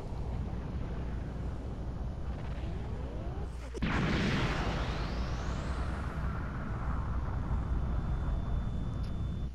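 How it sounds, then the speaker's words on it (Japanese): Massive explosion of the Earth in the Dragon Ball Z Kakarot video game: a sudden loud blast erupts partway through, followed by a sustained roaring rumble with a rising whoosh over a constant low drone. "大爆発。"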